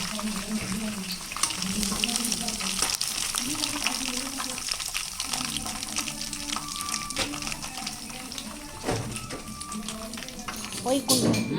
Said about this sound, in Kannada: ಈಗ ಚಿಕ್ಕಿ ಕಬಾಬ್ ಮಾಡ್ತಾವ್ರೆ. ಫ್ರೈ ಮಾಡಕ್ ಬಿಟ್ಟೆ